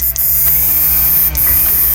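A Jinluotuo 12000 generator under repair runs with a steady, loud mechanical hum and buzz, broken by a couple of brief clicks.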